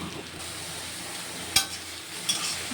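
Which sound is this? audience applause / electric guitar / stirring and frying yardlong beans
stirring and frying yardlong beans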